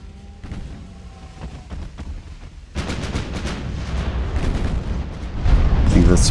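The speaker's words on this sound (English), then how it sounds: "Now that we've both settled, it is a hail of gunfire." Warships in the naval game Ultimate Admiral: Dreadnoughts trade fire, heavy gun booms and rumbling blasts that thicken into a dense, loud barrage and grow louder toward the end, with talk over them.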